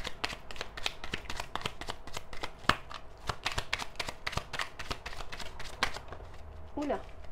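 A deck of cards is shuffled by hand in a quick run of sharp riffling snaps and taps, close and crisp, ending with a card drawn as a voice speaks briefly at the end.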